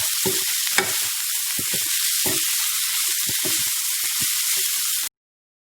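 Samai sevai (little millet vermicelli) being stirred and mixed in a hot pan, a steady sizzling hiss broken by irregular scraping and tossing knocks, close and fairly loud, cutting off abruptly at the end.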